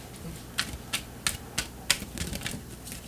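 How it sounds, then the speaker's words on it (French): A deck of tarot cards is shuffled up close, giving a series of crisp, rhythmic riffling snaps, about eight sharp bursts in quick succession. "on va brasser les cartes encore un petit peu"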